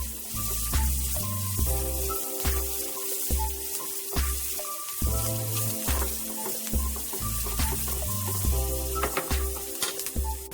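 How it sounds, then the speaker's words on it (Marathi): Chopped onions sizzling steadily in a pan for a Konkani prawn curry, a continuous close frying hiss with occasional stirring scrapes beneath a repeating background music loop. "कांदो बरो तांबडो जातपर्यंत भाजून घेवका."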